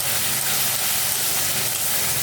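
A paste of chili powder, cumin powder and ground coriander sautés in a pan for rohu fish curry, giving a loud, steady sizzle that hisses on without a break.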